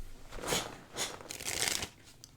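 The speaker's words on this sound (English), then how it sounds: "I don't think you'll mind me shuffling a bit." Playing cards being shuffled, several crisp riffling bursts close to the mic with brief pauses between them, no voices.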